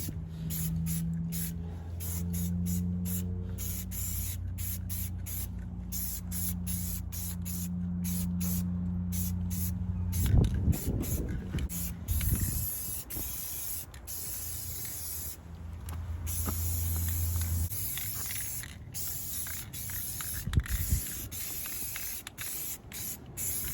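Spray gun hissing steadily as a tractor loader on a Massey 50 is painted red, with long continuous bursts broken by short pauses and a compressor humming low underneath; no talking.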